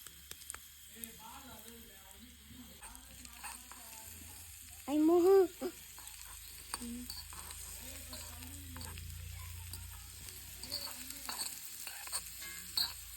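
Chopped onion sizzles steadily in a miniature pan while a spoon stirs it with soft scraping, and a voice talks briefly over the frying.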